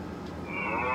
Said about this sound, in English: Cow. Oh, what's the sound of the cow?